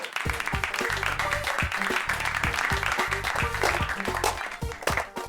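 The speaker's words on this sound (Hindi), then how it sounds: "ठोको ताली।" A group claps loudly and continuously in a busy, dense burst, with music playing underneath throughout.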